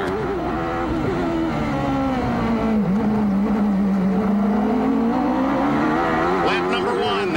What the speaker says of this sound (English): You're on board the nose of Bobby Rahal's car.